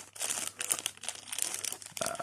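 A plastic dice bag crinkles and rustles up close for a couple of seconds while a Bolt Action Island Assault two-player wargame starter set is unboxed.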